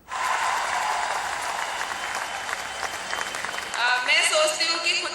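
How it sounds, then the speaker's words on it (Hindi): Sustained clapping from a crowd at an award ceremony honouring Olympic winners, dense and even, then thinning as music and chime-like tones come in near the end. "सीधा तस्वीरें आप देखिए, तालियों की गड़गड़ाहट है"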